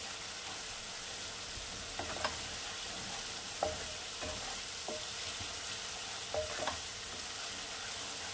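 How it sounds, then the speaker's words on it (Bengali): Chopped onions frying in a pan for a katla fish korma give a steady, quiet sizzle, broken by scattered scraping clicks of a utensil stirring them. "পেঁয়াজ দিয়ে এরকম কিছুক্ষণ নাড়াতে হবে, যেন দুটো পাশেই ভালো করে পেঁয়াজের সমস্ত অংশ যেনই ভালো করে ভাজা হয়।"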